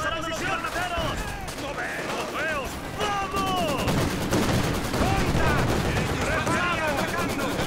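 Rapid machine gun fire and scattered gunshots from a Company of Heroes 2 World War II battle, a dense continuous barrage with bursts throughout, under excited voices talking over it.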